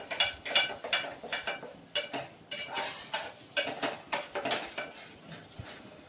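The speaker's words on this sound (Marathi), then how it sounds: "दही 2 मिनिटं त्याच्यामध्ये छान मिक्स करून घेते." Half a bowl of yogurt stirred into spiced oil in a pan for prawn rice, a spoon clinking and scraping against the pan in quick repeated strokes, close and fairly soft with no voices.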